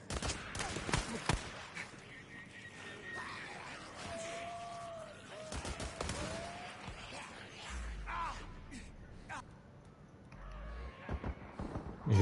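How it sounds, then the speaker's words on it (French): Gunfire in the video game Days Gone, with bursts of sharp shots scattered across the scene, some in quick volleys, mixed with other game sounds and occasional talk. "Ils ont tiré là-haut, tu crois."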